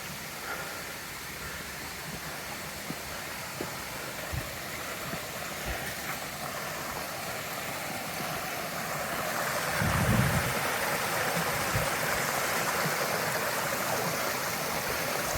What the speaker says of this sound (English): we've been running along this little brook